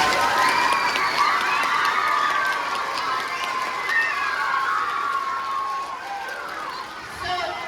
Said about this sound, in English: Let's give Mrs. Rebar a big round of applause for arranging this.